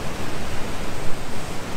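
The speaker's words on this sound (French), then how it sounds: "Les vagues là, le blanc mélangé au bleu de la mer" Sea waves breaking on a rocky shore in bright sun, a steady broadband wash of surf with rolling swells, loud and continuous with no voices.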